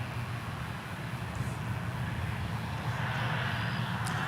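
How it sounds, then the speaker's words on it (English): Airbus A320 airliner on flight 1202 from Salt Lake City arriving at Dallas Fort Worth airport, giving a steady, continuous low jet engine rumble with broadband roar, moderately loud and unbroken throughout, with no talking. "it's flight 1202, an Airbus A320."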